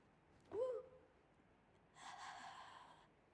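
Deep breathing during a core exercise: a sharp voiced inhale with a slight vocal tone, a pause, then a long, steady, breathy exhale, close and fairly quiet.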